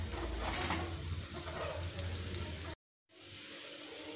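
Garlic sizzles in hot oil for a potato samosa filling, a close, steady hissing crackle that runs continuously, briefly cuts out to silence, then resumes.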